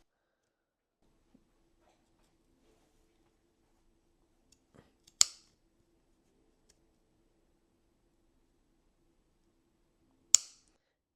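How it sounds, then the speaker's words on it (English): Scissors snipping fabric scallops for a sewn heart garland, two sharp isolated cuts several seconds apart in an otherwise quiet room, with a faint hum underneath. "You can also just do a few snips at a time, especially as you're getting closer to the corner."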